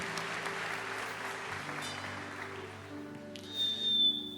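A church congregation applauds during a worship service. Broad, steady clapping fills the room under sustained musical tones, and a bright, high held note enters near the end.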